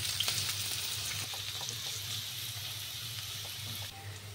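Sliced onion sizzles in four tablespoons of hot white oil tempered with whole fenugreek seeds in a kadai, a steady broadband hiss running throughout with a low hum beneath and no talk.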